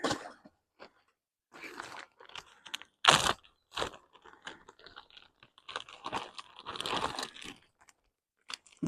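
A plastic food bag is handled at a camp stove before a breakfast of bacon and eggs, making close, irregular bursts of crinkling and rustling separated by short quiet gaps.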